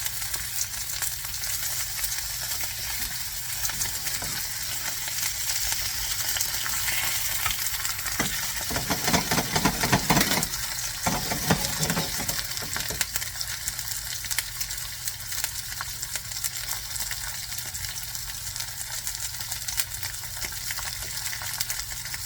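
Bone-in beef shanks sear in a hot pan with a steady, loud sizzle that runs the whole time, crackling more sharply for a few seconds midway when the meat shifts or is turned.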